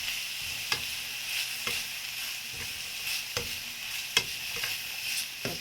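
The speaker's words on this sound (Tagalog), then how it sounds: "a bit more mixing." Pork and black beans frying in a pan, a steady sizzle under repeated sharp clicks of a utensil scraping and stirring at irregular intervals, close and without talk.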